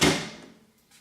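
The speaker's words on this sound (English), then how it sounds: "Close the door." A microwave oven door swings shut with a single sharp close at the start, then quickly fades into near silence.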